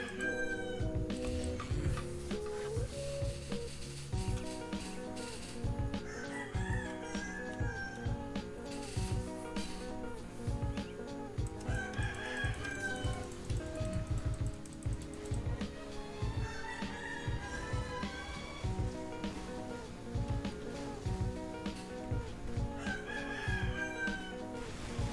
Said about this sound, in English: Chickens are cocking.